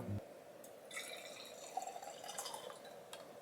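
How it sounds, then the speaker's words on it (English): Echo Falls wine poured into a glass, a soft trickling, splashing stream that runs steadily for a few seconds at close range, fairly quiet, with no voices over it. "I'm gonna pour a little"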